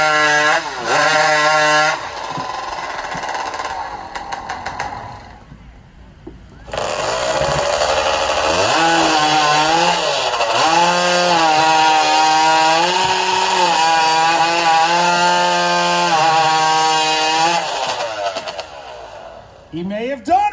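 Chainsaw roaring through a log in a qualifying cut at the Pennsylvania Lumberjack Championships: a loud, sustained high-revving buzz with a brief drop in pitch, then a long continuous cut, with crowd noise and an announcer's voice underneath.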